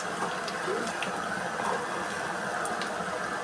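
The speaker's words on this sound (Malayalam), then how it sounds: "ഇനി നമുക്ക് കൊച്ചുള്ളിയും കറിവേപ്പിലയും ഇട്ട് കൊടുക്കാം." Shallots and curry leaves sizzle in hot coconut oil for a beef curry tempering, a dense, even hiss and crackle held close and steady throughout.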